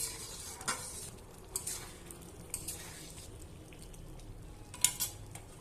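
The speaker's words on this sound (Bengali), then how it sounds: "চালটা ফুটে গেছে, নেড়ে দেবো একবার।" Rice boiling in a pot for tehari gets stirred, soft scraping strokes and a few sharp spoon taps against the pot over a faint bubbling hiss.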